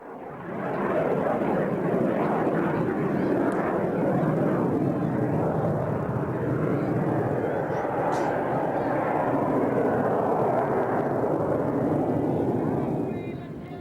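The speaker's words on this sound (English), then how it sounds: "Highly agile airplane." An agile trainer airplane's engine roars in flight at an air show, a broad sustained drone that holds steady with slight swells, heard from the ground at moderate distance.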